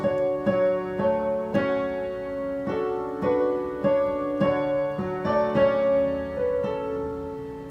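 Piano playing a simple melody over sustained chords, notes stepping back and forth in a gentle, even rhythm, close and clear with no talking.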